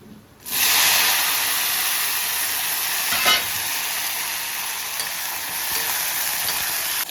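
Onion vadagam drops into hot oil for tempering and bursts into a loud, hissing sizzle that holds steady with a brief flare of spattering, close by and without speech.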